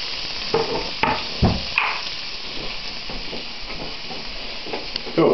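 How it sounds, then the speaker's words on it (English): Chicken breast frying in a pan with no oil gives a soft, steady sizzle with occasional stirring scrapes and knocks, moderately close, under brief bits of talk. "just while that's frying up, making sure we're not using any oils"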